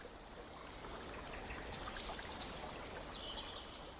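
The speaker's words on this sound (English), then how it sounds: "The sound of water trickles faintly from a nearby well." Water trickles faintly from a nearby well in a soft, continuous, gentle flow that stays low and steady throughout, with no voices.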